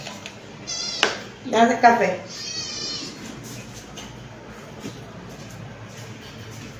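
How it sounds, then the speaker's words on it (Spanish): A cat gives several meows and cries mixed in among a person's brief talk in a home during a power outage, the loudest call coming near the middle. "tengo un gato por ahí dando perreta"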